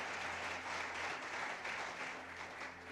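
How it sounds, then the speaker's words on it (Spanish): Church congregation applauding during a sermon, a dense, steady wash of clapping from many hands that continues without a break over a low room hum. "¿Cuántos le pueden dar un aplauso al Señor?"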